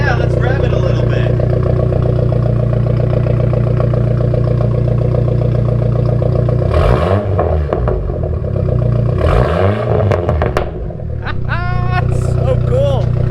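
Dodge Neon SRT4 with an MPx exhaust idling with a steady low rumble, then revved twice in sharp rising-and-falling bursts, loud and close; voices talk and react over the engine near the end.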